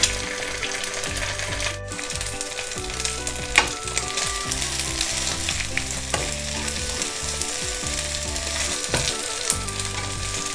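A Thai crispy oyster omelette fries loudly in a pan as two eggs go in, giving a dense, continuous sizzle with scraping stirs and light metallic taps throughout, and no talking.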